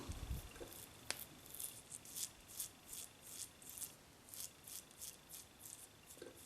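A Wilkinson Sword razor cutting stubble during a shave gives soft, close, rhythmic scraping strokes, quiet and regular, with no talking over them.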